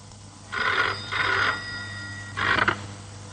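A telephone rings in short electronic bursts, two close together, then a pause and a third, clear and fairly near.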